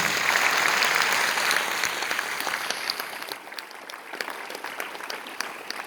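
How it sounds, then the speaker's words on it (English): Applause from an audience at the judges' comments and results of a girls' Shakespeare competition final, a dense, sustained wash of clapping that starts full and slowly thins and fades toward the end. "this journey deserves a thundering round of applause again"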